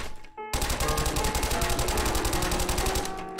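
Rapid automatic gunfire from a gun in the Granny horror video game rattles out as one loud, continuous burst of evenly spaced shots after a brief moment of quiet.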